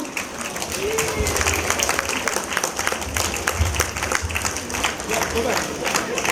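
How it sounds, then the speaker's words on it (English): Parents applauding at a school annual day performance, a dense, steady round of clapping from a large crowd filling the hall, with voices mixed in underneath. "A big round of applause, parents, once again."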